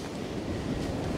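Strong wind gusts across Flinders Pier, a dense, steady roar of buffeting rushing against the microphone with surf churning beneath, loud and unbroken for a brief moment.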